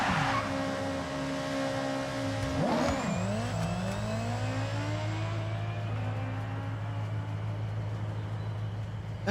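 Car engine revving hard in the Forza Horizon racing video game, a loud rising whine that peaks near three seconds with a sharp sweep as it passes, then settles into a steady lower drone.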